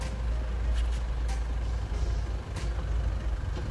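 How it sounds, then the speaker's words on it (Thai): A Kubota M7040 4WD tractor engine idles steadily with a low diesel rumble and a few faint clicks and knocks over the running engine. "เครื่องยนต์ สตาร์ทติดง่ายนะครับ เครื่องปกตินะครับ"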